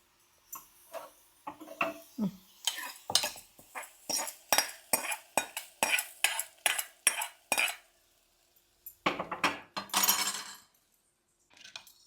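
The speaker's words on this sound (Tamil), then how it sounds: "இதை அப்படியே பருப்பில் கொட்டிட்டு நம்ம பருப்பில் வச்சு நல்லா கடைஞ்சிக்கலாம்" Cooked green gram dal with tempering being mashed in a pot with a wooden churner: a close series of quick, rhythmic knocking and scraping strokes that pause, then resume briefly, with no talking.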